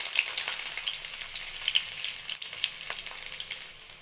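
Onion pieces fry in about two spoons of hot oil in a pan with a pinch of salt: a close, steady crackling sizzle with small pops, continuous throughout.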